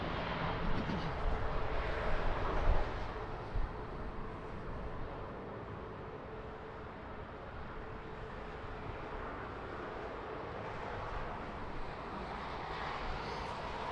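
Airliner landing at Lisbon Airport in crosswind, a steady broadband engine roar and rushing air at a distance, dense and continuous throughout, slightly louder at the start.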